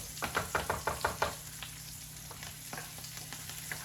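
Food fries in a hot pan, opening with a quick run of rhythmic stirring scrapes and spattering bursts, then settling into a softer, steady sizzle with occasional pops, close and without talking.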